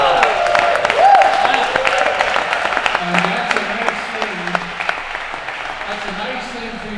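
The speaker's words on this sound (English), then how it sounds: "a nice thing for you to applaud" An awards ceremony audience claps in a scattered, moderate burst while a speaker keeps talking over it, with a brief whistle near the start.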